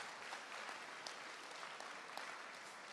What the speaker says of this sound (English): Let's give a warm round of applause for everybody who helped set this up this evening